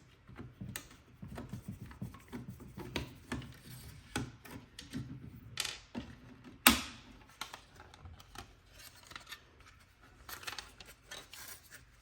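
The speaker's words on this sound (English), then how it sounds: "And let's remove that trim piece." Translucent black plastic trim piece pried off a Lasko 5588 34-inch tower heater: close, irregular creaks, clicks and scraping, with one sharp snap partway through as the plastic releases, no talking.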